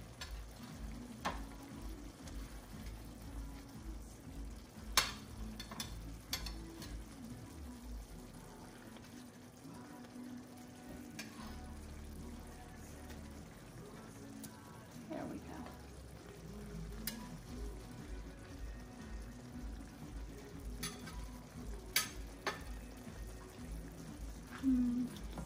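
Salmon pieces sizzling and frying in a pan of creamy lemon garlic butter sauce, a steady close crackle with occasional stirring scrapes and clinks, no talking.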